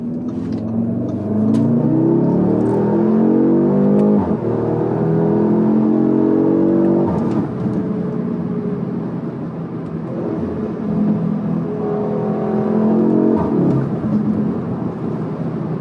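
A 213 kW Audi S3 8Y revs hard, its exhaust note sweeping up and down through several rising pulls, with a brief dip midway. The sound is loud and close throughout.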